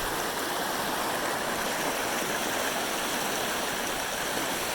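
Storm rainwater rushing through a slanted driveway gate that catches debris, a steady, loud, broadband roar of flowing water with no pauses and no voices.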